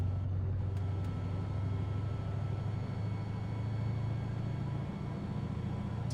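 A heavy truck in Euro Truck Simulator 2 drones with a low, steady engine and retarder rumble as it brakes, loud and continuous throughout with no talking.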